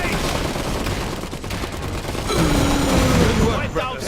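Gunner squads fire machine guns in the Iron Harvest strategy game, a dense, steady rattle of gunfire that swells louder in the second half while voices call out over the battle.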